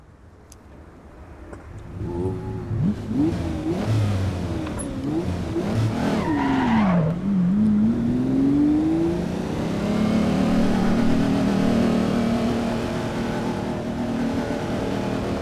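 A vintage Lamborghini Countach engine revs hard in the Assetto Corsa EVO racing game, climbing and falling through several loud, close gear changes before settling into a sustained high drone.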